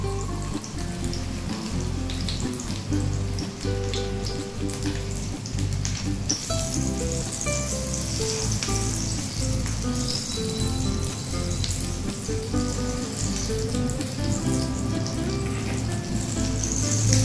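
Pabda fish fry in hot oil with a dense, continuous crackling sizzle that holds steady and close throughout, and there is no talking.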